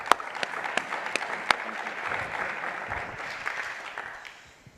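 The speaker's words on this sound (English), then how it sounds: "Please join me in giving them a round of a welcome applause." Audience applause welcoming panel speakers at a gene-editing agrifood event, a steady wash of many hands clapping with a few sharp close claps early on, fading toward the end.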